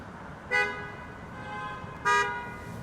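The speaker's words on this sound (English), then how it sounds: "Honk honk." A car horn gives two short honks on a Toronto street, about a second and a half apart, over a low steady background.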